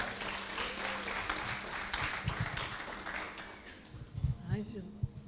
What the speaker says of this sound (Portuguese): Uma salva de palmas para a Kátia, gente.